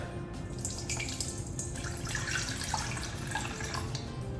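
Water pours and splashes steadily into a mixing bowl while making sourdough, a continuous close trickling and dripping sound with no voices.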